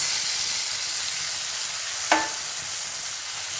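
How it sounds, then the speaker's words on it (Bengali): Fried prawns being added to a pan of softened onions and spices cooking in oil, giving a steady close sizzle with one brief sharper clink partway through, no voices. "মশলা দিয়ে এবার এই ভেজে রাখা চিংড়ি মাছগুলো দিয়ে দেবো এর মধ্যে"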